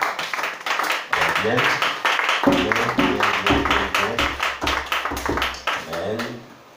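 A church congregation claps together in acclaim of Jesus, steady rhythmic clapping over singing and speaking voices, close and lively throughout.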